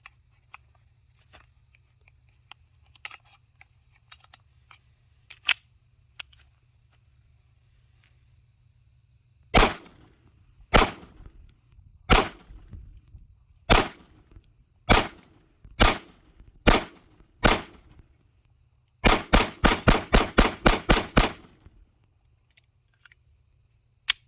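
Shots from a SIG P365 XMACRO compensated pistol with a flush comp and 17-round magazine, fired outdoors: a series of sharp, loud, evenly spaced single reports, then a fast rapid-fire string of about ten closely bunched shots.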